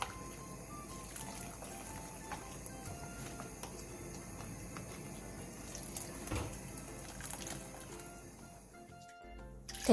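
Blanched spinach rinsed under cold running water, a continuous tap stream gushing and splashing into a sink for several seconds, with soft clinks mixed in and no talking.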